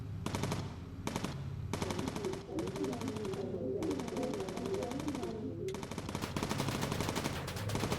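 Rapid machine-gun bursts from enemy fighters in Bomber Crew, a World War II bomber game, rattling in long repeated volleys with brief pauses between them, loud and close throughout.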